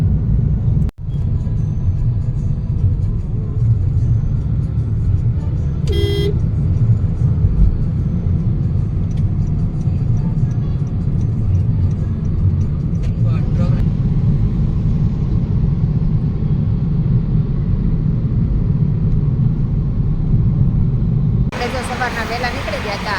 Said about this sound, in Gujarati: અહીંથી એટલું ટ્રાફિક છે